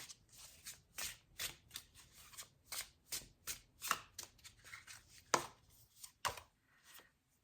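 Tarot cards are shuffled by hand in a quick, rhythmic run of close riffling bursts, each a brief papery flutter, repeated about a dozen times with short gaps.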